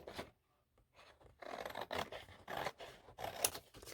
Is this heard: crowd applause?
no